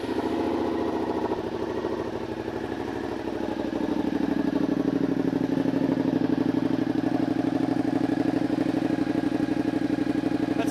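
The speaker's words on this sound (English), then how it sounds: "That's a good sounding exhaust" A Suzuki SV650 motorcycle's engine idles steadily through its exhaust, a close, even rumble that settles into a smooth, constant throb after a brief unsettled start.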